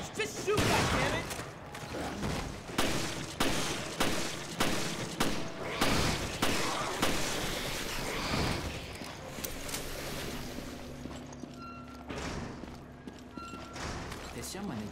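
Gunfire aimed at a BOW creature in the video game Resident Evil Revelations, a rapid burst of loud repeated shots in the first half, later thinning out into mechanical clatter, with voices speaking over the action.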